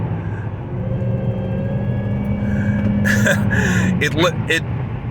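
A supercharged 2003 Infiniti Q45 Premium accelerating, heard from inside the cabin as a steady engine drone over low road rumble, with a voice speaking briefly near the end.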